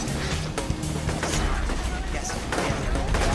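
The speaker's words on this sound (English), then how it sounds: "I like running into gunfire." Dense, continuous gunfire and explosive bursts fill the scene in the superpowered action video game inFamous, with a voice talking over the clamour.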